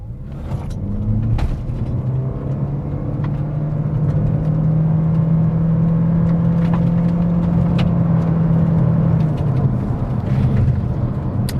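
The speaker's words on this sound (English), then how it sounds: "that's the CVT gearbox. It's one gear, whatever you do." A Toyota C-HR small SUV with a CVT gearbox accelerating in sport mode, giving a steady, sustained engine drone that holds one droning pitch instead of rising and falling through gear changes, loud and close with no talking.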